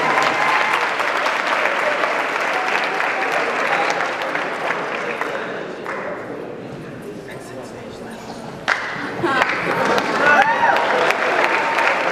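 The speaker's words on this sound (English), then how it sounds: "So just one more round of applause." Applause at a high school sports banquet, a sustained round of clapping from the assembled crowd that carries through the whole stretch, dips briefly, then swells again near the end.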